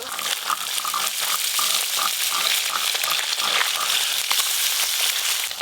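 Small fish fry lightly in a pan, a loud, close, unbroken sizzle with crackling spits and occasional scraping of the utensil, no voices over it.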